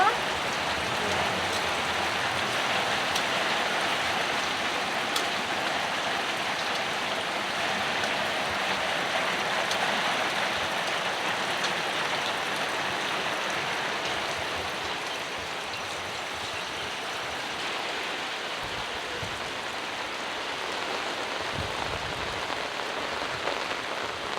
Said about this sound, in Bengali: এই যে বৃষ্টি ছাট আসতেছে এই জন্য এখানে বসাইলাম